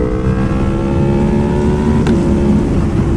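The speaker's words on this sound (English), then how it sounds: "I love the sound of the V4 on high RPMs" A V4 sportbike engine runs loud and steady at high RPM, with a dense, sustained harmonic drone through the whole stretch and a brief sharp blip near the end, heard up close while riding.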